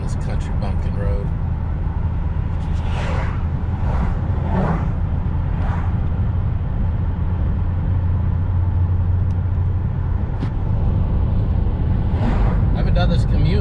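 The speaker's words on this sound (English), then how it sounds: "Look at all the traffic now." Road traffic on a rural country road, a steady engine drone from inside a moving car with several vehicles whooshing past, while someone talks throughout.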